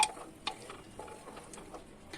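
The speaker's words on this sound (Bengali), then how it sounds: "বন্ধুরা, এবার আমি একটু এগুলোকে নেড়ে চেড়ে দিলাম।" Broken-wheat dalia with lentils and spices is stirred in a pot, a few soft scraping and clinking strokes over a faint simmer, quiet and close, without any talking.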